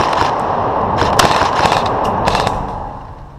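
A Tokyo Marui MK23 Socom airsoft gas pistol fires several sharp, snapping shots close up in quick succession, each one a short burst standing out over a steady hissing background.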